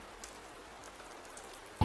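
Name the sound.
rain falling outside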